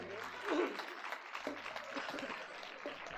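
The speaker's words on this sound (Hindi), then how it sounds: "जरा जोरदार ताली बजाएंगे" A crowd claps at a live devotional Manas gan singing competition, the applause a steady textured patter under a low sustained hum, with a louder burst early on.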